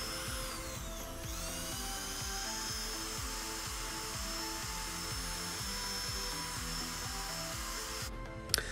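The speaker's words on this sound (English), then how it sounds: "Then we hit it with our drill brush." Small-headed drill brush scrubbing a stained car seat during cleaning, a steady motor whine with rhythmic scrubbing pulses, close and continuous throughout.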